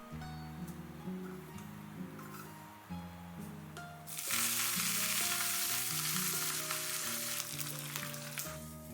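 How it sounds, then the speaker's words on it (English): Urad dal, mustard seeds and curry leaves sizzle in hot oil in a small pan for a chutney tempering, a steady close crackle that suddenly flares into a louder, hissing fry partway through, with faint tonal music underneath. "For the chutney tadka, I added some oil to a small pan and tempered it with urad dal, mustard seeds and curry leaves"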